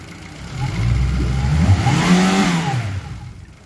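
A Yamaha F60 EFI outboard motor revs up close and loud, its engine note rising and falling once over a few seconds, with no talking.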